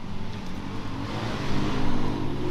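A dirt bike engine revs nearby in a continuous buzzing drone that rises and grows louder toward the end.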